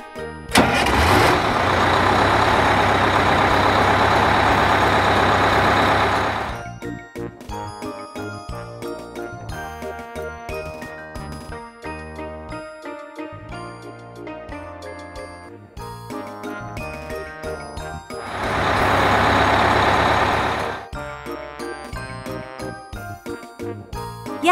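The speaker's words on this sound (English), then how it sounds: "Yellow. School bus." A yellow school bus engine cranks and catches, roaring loudly for several seconds before dropping away, then surges once more later, with light jingly music playing between the bursts.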